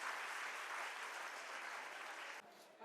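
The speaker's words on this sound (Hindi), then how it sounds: "जोरदार तालियों से स्वागत किया जाए।" An audience at a dance program bursts into dense, sustained applause, a continuous roar of clapping that cuts off abruptly near the end, leaving a quieter tail.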